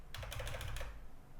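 About half a dozen quick keystrokes clatter on a computer keyboard in a short, close, quiet burst, followed by near silence.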